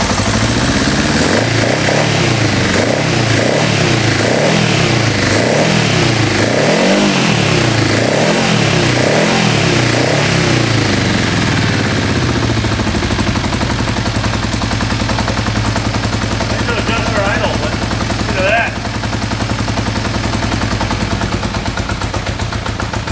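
A flooded Honda motorcycle engine, revived after thirty years, runs loud and close with rough, pulsing revs in the first half, then settles into a steady, uneven idle.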